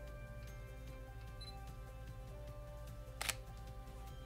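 A camera shutter clicks once, sharp and close, during a studio photo shoot with a steady low background hum around it.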